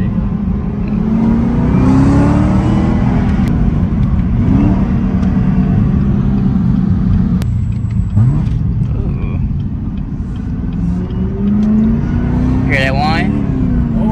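Sports car engine revving loudly and repeatedly through a series of downshifts, close and sustained, with rising and falling pitch sweeps; people talk over it.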